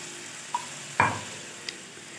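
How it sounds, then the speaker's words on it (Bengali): Boiled chickpeas tipped into a pan of frying masala for vegetarian ghugni, a soft thud and brief clatter followed by a short sizzle, close and alone. "এবার সেদ্ধ করে রাখা চানাগুলো দিয়ে দিলাম"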